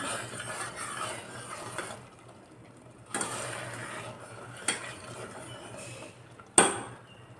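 A jaggery mixture cooking in a pot is stirred with a utensil, making quiet intermittent scraping strokes against the pot and a few sharp metallic clinks, with no one talking.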